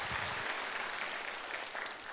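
A lecture audience listening to a journalist's talk claps together in a steady, even wash of applause, fairly faint and heard without any speech over it.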